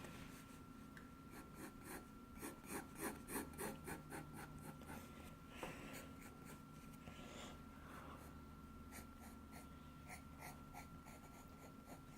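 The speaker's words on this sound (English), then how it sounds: "So that's what I'm just sketching." Pencil scratching across paper while sketching a velociraptor, soft rhythmic back-and-forth strokes close by, quiet and continuous against a faint steady hum.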